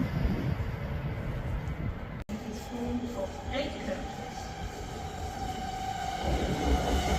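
A Class 807 train heading from Crewe to London Euston runs past at Rugby on the West Coast Main Line, a fairly quiet, steady rumble of wheels and rail with a short break near the start.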